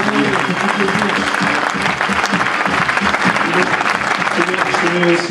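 An audience at a young creators' talent event in Aulnay-sous-Bois applauds loudly and continuously, with crowd voices and cheers mixed into the dense clapping.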